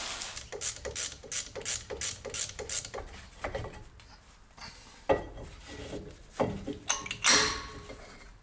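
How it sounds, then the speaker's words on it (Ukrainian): A hex key works loose a brake caliper guide bolt on a Polish taxi during a wheel hub job, giving close metallic ratcheting and scraping clicks in a quick series, then irregular clanks and rubs. "Беремо такий шестигранничок і відкручуємо направляючий"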